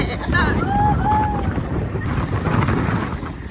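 Steady roaring rush of falling water from a waterfall in Cambodia, with wind buffeting the microphone and birds chirping briefly early on.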